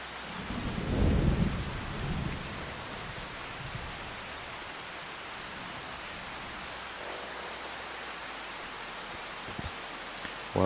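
Steady rain falls on a farm on planting day, a broad even hiss of drops with a low rumble near the start, continuing without voices.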